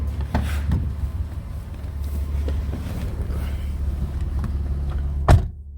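Power windows of a Mitsubishi VRX car whir shut over a low idling engine hum, with a few soft knocks, then a sharp thump as they seal.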